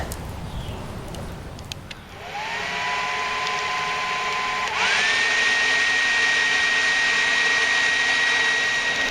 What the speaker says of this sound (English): Okay, so the forge is looking like it's about ready.